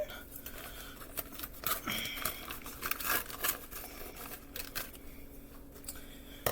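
Plastic corned beef package being cut open, giving close, quiet crinkling, crackling and snipping sounds in irregular bursts.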